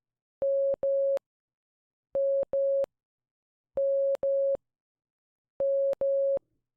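Morse code sounds as a clean steady tone keyed in four evenly spaced groups, each a longer dah followed by a short dit, clear and alone against silence.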